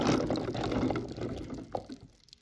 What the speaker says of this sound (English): Drain.